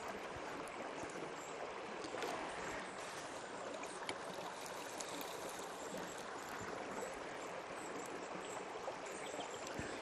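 Water rushes steadily through a gold prospecting sluice on a river at Cheshire Creek, Sofala: a continuous, fairly faint burble and wash with no pauses.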